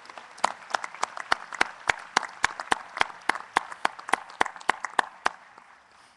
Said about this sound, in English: Please join me in a round of applause for this wonderful university